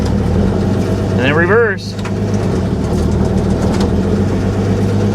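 An abandoned 1955 GMC 350 truck with a Hydra-Matic transmission, revived after 30+ years, idles with a steady low engine rumble while someone talks over it briefly.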